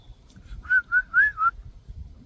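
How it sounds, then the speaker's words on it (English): A person whistles four short, clear notes in a quick, even rhythm, close to the microphone, with a quiet low background rumble and no talking. "I can't whistle."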